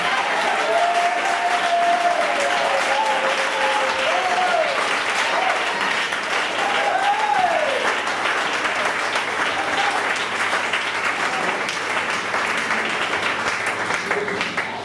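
Congregation at a church revival service applauding, a dense, sustained clapping that fills the room, with a voice calling out over it.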